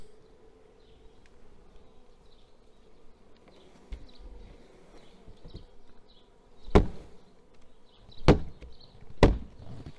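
A dense mass of honeybees drones steadily in a hive body during colony work, with a low continuous buzz and three sharp knocks or taps near the end.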